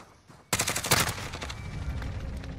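Grau 5.56 rifle firing in a video game: a sudden, loud rapid burst of automatic shots close up, with ringing echo trailing after the volley.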